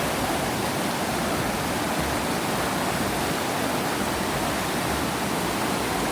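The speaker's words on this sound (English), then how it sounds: "you got this tumultuous water" Steady, dense rushing of water pouring over rocks at Horse Cove Campground, a constant broadband roar with no pauses and no voices.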